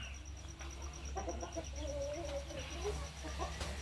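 Farm chickens clucking in a yard in fine weather, short soft calls scattered over a steady low background hum, at moderate distance.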